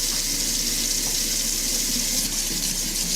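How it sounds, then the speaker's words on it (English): A tap runs water steadily into a sink during handwashing, a constant, fairly loud hiss and splash with no change in flow and no talking. "Okay, you've turned on the water."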